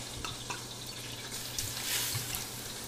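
White wine splashes into a pan of chopped shallots for a blueberry sauce to go with goose breasts, a steady liquid pour with some sizzle, close and alone.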